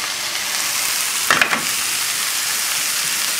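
Chicken thighs fry in a pan over a high flame, giving a steady, even sizzle throughout, with a brief clatter of a utensil near the middle.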